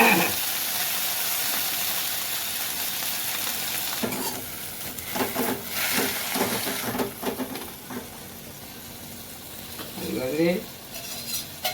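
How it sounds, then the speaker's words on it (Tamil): Thoothuvalai leaves sauté in oil in a pan with a steady background sizzle, broken midway by a series of scraping stirs. A brief spoken word comes in near the end. "தூதுவாழை இலையை வதக்க போகிறேன் போட்டு"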